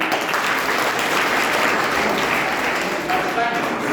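Students at a junior-wing school maths quiz applaud a team in a loud, sustained burst of many hands clapping, with no voices over it.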